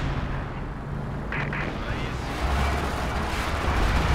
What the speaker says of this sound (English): This is my strafe coming in.